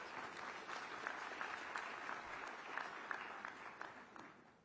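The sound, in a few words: audience applause at a summit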